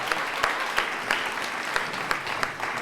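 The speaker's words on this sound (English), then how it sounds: "I think the applause says it all" An audience at a festival symposium in Listowel claps, with individual sharp claps standing out at a fairly regular pace over a softer background of lighter clapping.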